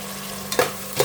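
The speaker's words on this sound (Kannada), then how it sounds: "ತೊಳೆದಿಟ್ಕೊಂಡಿರೋ ಮೆಂತ್ಯ ಸೊಪ್ಪು ಹಾಕೊಳ್ಳೋಣ ಇದನ್ನು ಸ್ವಲ್ಪ ಚೆನ್ನಾಗಿ ಫ್ರೈ ಮಾಡ್ಕೊಳ್ಳೋಣ ಆಯಿಲಲ್ಲಿ" Fenugreek leaves and fresh field beans fry in oil with a soft continuous sizzle, broken by two quick stirring scrapes near the end, close and fairly quiet.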